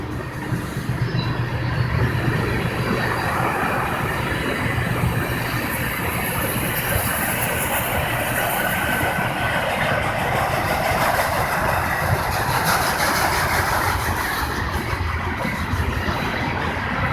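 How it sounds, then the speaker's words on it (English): A long northbound Norfolk Southern mixed freight train rolls steadily past close by in Athens, Tennessee, a continuous rumble and clatter of new cars with a faint high squeal, no voices. "here comes some brand new cars"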